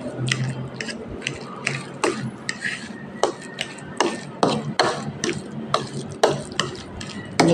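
Ingredients being mixed with mayonnaise in a bowl, a brisk series of loud, close clacks and sticky scraping strokes at a steady, slightly uneven rhythm.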